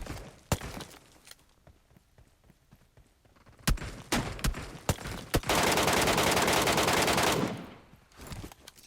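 Gunfire from an enemy bot in the shooter game Metro Royale of PUBG: scattered single sharp shots crack out, then a dense two-second burst of automatic fire, loud and close, with no talk.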